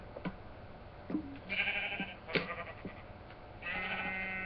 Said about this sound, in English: I'm trying to tame a sheep.